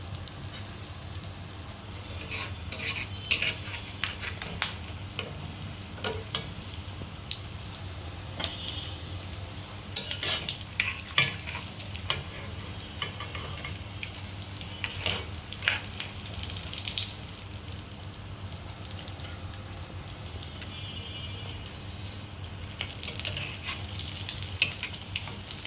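Steady sizzling of potato chops (alur chop) frying in hot oil in batches, a continuous crackling hiss with scattered pops and occasional clinks, close and moderately quiet.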